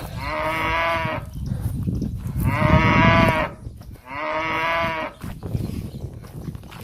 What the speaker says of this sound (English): You got your cows here.